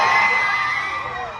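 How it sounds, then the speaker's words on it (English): Fans at a Louis Tomlinson movie premiere let out a sustained high-pitched mass scream, loud and continuous, slowly fading a little toward the end. "We hear the screams."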